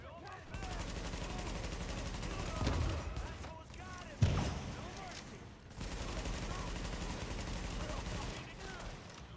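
A weapon in The Division fires in sustained, rapid automatic bursts with short pauses between them and one sharper crack midway. The shots are loud and continuous, and a voice speaks over part of the shooting.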